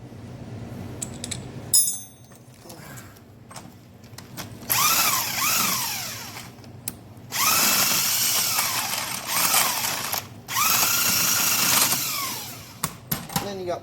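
An impact tool zips lift anchor bolts loose on a two-post car lift, three long whirring bursts separated by pauses and short clicks, close and loud.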